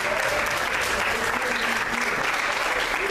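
Church congregation applauds during a worship service, a dense continuous roar of clapping that stays loud and even, with a faint tonal voice or music lingering underneath.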